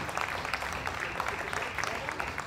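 An audience at the Festy Live 2024 contest applauds a jury's favourite-prize winner, steady, moderately distant clapping with scattered sharper claps and light crowd murmur.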